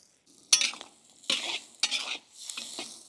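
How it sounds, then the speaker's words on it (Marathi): Chopped tomatoes being sautéed for a Maharashtrian village-style fish curry gravy, with the spoon scraping and stirring in a few separate bursts of sizzling over a quiet pan, close and moderately loud. "टमाटे पण आपण व्यवस्थित परतून घेऊ"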